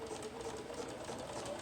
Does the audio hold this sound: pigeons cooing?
no